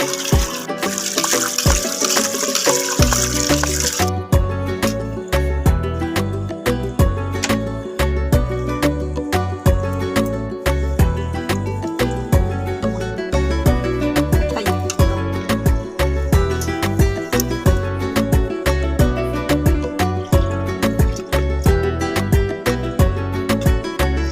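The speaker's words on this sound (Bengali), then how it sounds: "মাছগুলোতে লাল অংশ থাকে, এরকম একটু লগড়ে লগড়ে ভালো করে ধুয়ে নিতে হয়।" Pieces of golden fish washed by hand in water, with continuous splashing and trickling close by, rhythmic sloshing as the pieces are rubbed, and no talking.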